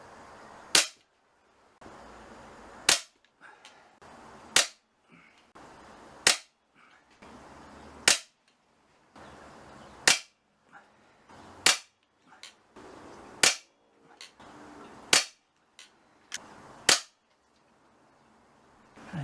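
An AGS PCR1 air rifle fires Webley Venom 21.4-grain pellets in ten sharp, loud cracks spaced about two seconds apart, each followed by a brief ringing decay, with low handling noise between shots.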